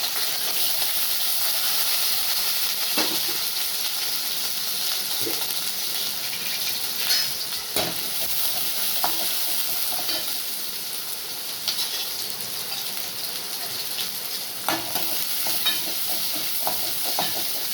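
Onions and curry leaves fry in hot oil for a country chicken curry, giving a steady, close hiss and sizzle with occasional stirring scrapes and clicks throughout.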